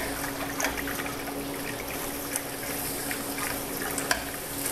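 Grain being stirred into a home-brew mash in a 5-gallon keg, a steady wet churning and swishing of thick liquid over a low constant hum, with no talking.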